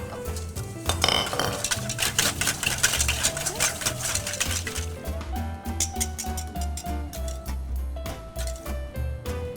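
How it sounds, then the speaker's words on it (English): A whisk beats vanilla and wet ingredients in a bowl in a pastry kitchen, producing rhythmic metallic clinks and scrapes that repeat steadily under background music. "let's go ahead and whisk it really well until it's all combined together"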